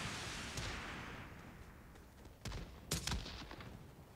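Gunfire in a PUBG Mobile heavy-weapons battle mode, a few scattered bursts and single sharp shots over a dim rushing background, fairly faint and distant.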